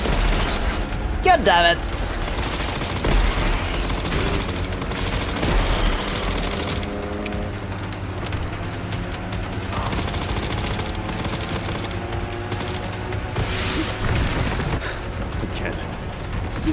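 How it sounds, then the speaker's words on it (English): Rockets fired and exploding in Resident Evil Requiem, a long barrage of booming blasts and rapid gunfire-like bursts that stays loud and dense throughout, with someone shouting in frustration early on. "I told you you're not allowed to shoot rockets at me!"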